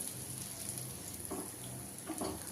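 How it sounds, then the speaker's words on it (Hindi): Bread aloo snacks fry in a pan over a low-medium flame, a steady, even hiss and crackle of oil that runs throughout with a few slightly louder pops. "तो यहाँ पे हमें लो मीडियम पे इसे फ्राई कर रहे हैं।"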